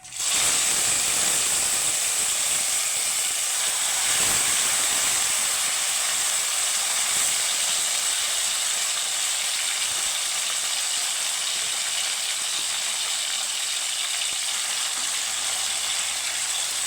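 Drained taro greens sizzling as they hit a hot pan where whole cumin and chillies have been frying, giving a loud, steady hiss that carries on evenly, close and unbroken, with no talk over it.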